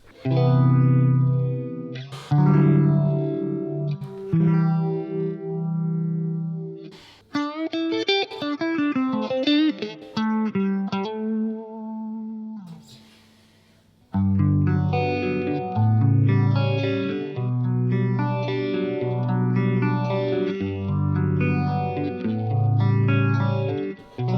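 Guitar through an MXR Phase 90 phaser pedal with amp spring reverb, strummed chords and picked single-note lines sweeping with a swirling phase motion, a brief near-silent pause mid-way before heavier chords return, loud and without talk.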